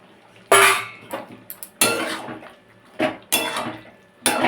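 Fried green tomato stirred into boiled potato curry in a pan, bursts of metal utensil scraping and clattering against the pan that come in separated strokes with short quiet gaps between them.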